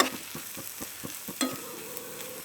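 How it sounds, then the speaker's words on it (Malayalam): Spoon stirring pepper powder and salt into a masala in a hot pan, with a steady rhythm of light scrapes and taps over a soft sizzle, a brief louder clink midway and no talking. "ഇനി നമുക്കിതെല്ലാം കൂടി ഒന്ന് മിക്സ് ചെയ്യാം."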